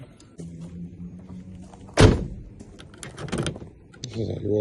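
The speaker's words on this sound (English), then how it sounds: "This is how you roll up the windows." Power windows on a 2008 Nissan Murano whir steadily for about a second and a half, then a loud thunk and rustle follow as the glass seats, with further clicks and faint voices near the end.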